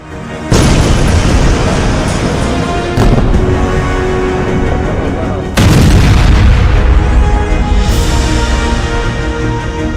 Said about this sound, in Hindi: जबरदस्त धमाके के बाद बारूद और धूल का गुबार 200 फीट तक पहुंच गया।